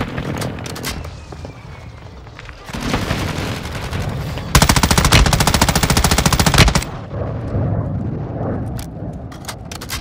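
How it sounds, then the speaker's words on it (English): Rapid automatic gunfire and blasts in Call of Duty: Modern Warfare II during a friendly precision airstrike: loud sustained bursts swell and cut off, with scattered shots around them. "Friendly precision airstrike inbound."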